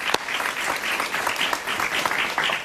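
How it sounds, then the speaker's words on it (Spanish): Studio audience applause during a Spanish-language political talk show, a short, full burst of clapping that continues evenly for a few seconds. "Un aplauso para él."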